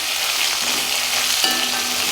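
Green chillies and a handful of cashews sautéing in hot oil in a pan for a salna, a steady close sizzle with a small clink partway through, no talking.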